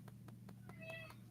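A pet cat gives a short series of soft, close meows, one drawn out longer in the middle, quiet and with no talking.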